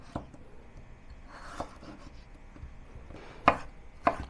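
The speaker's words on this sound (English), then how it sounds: "Potatoes also cut into small pieces." Potatoes are chopped into small pieces with a knife on a board, a few scattered, crisp, close thuds, two sharper cuts near the end, no voices.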